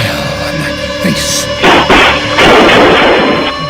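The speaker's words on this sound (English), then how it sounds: "Gunshots rang out at a gas station" Gunshots at a gas station, a few loud sharp cracks and bursts of blast noise over a busy, droning background.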